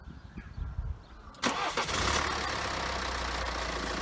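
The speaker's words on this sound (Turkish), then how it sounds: "bir aracımızı çalıştıralım" A BMW X5 with a twin-turbo TwinPower engine starts after a quiet moment, with a sharp crank and catch and then a steady, loud, close-up idle rumble.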